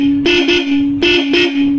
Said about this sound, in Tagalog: So ngayon pakinggan natin yung tunog ng Bosch Europa.